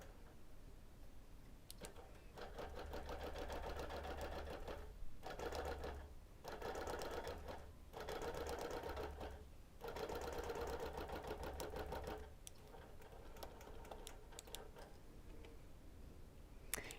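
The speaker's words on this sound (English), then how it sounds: "I move my machine just a little while it's doing those 4 stitches in succession" A quilting sewing machine stitches a free-motion edge-to-edge pattern in steady, rapid runs of ticking needle strokes, pausing briefly between passes, close and moderately loud with a low motor hum.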